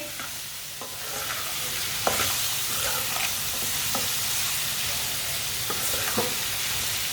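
Tinday (round gourd) with green tomato fries in a pan, giving a steady hissing sizzle with occasional scrapes and clicks from stirring, close and continuous, with no talking.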